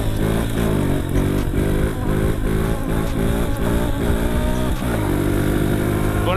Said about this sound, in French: c'est la première fois que je ressors la moto